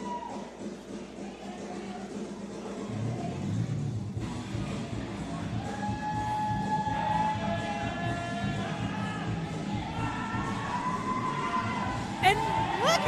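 A live wrestling event crowd at a championship main event builds into loud cheering and whooping, with shouts and whistles rising over a steady roar of the audience.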